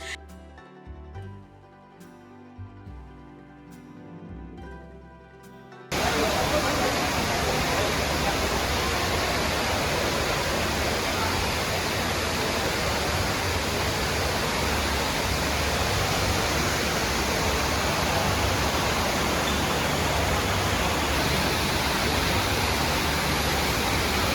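The indoor waterfall in Dubai Mall roars with a dense, continuous rush of falling water, loud and unvarying after a brief stretch of quieter background sound at the start.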